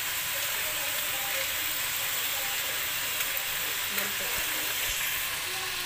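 Chicken cooking in a pan with vinegar and oregano, a steady dense sizzle and hiss that holds evenly throughout, close and fairly loud.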